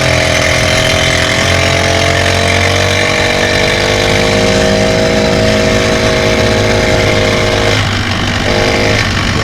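A bicycle powered by a brushcutter engine through a CVT drones loudly and continuously at full throttle, a buzzy small-engine whine holding steady with a slight pitch shift near the end, no voices.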